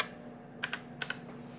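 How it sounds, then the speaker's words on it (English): A few keys tapped on a keyboard wired through a Raspberry Pi to a Coco2 retro computer: four crisp, close clicks in two quick pairs against a quiet background hum. "whenever I hit a key, it goes into the Raspberry Pi, turns into data information, and goes to the Coco."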